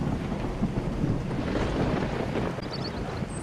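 Heavy rain pouring down during a storm, a dense steady roar of rainfall with low rumbling wind-like noise underneath, fading slightly near the end.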